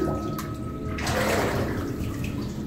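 Water flowing through a flooded old mine tunnel with rails on the floor, a loud continuous rushing and splashing close by, with no talk.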